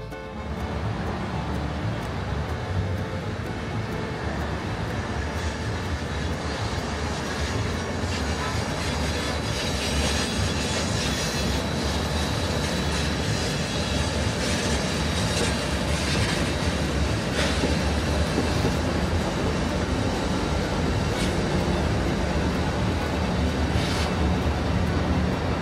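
The Big Boy steam locomotive hauls a train past Virgilia on the Feather River Route in California, a continuous loud rumble of rolling rail cars with wheel clatter and occasional squeals, steady for the whole stretch.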